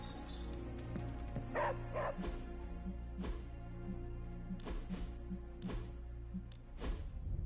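Charlie the dog in the video game Midnight Suns gives several short barks and yips in a quiet interior, spaced irregularly over a low steady background hum, with no voices.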